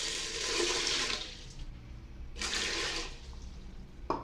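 Water pours and splashes onto roasted mung beans in a cooking pot, in two distinct gushes with a quieter trickle between them, close and alone with no talk.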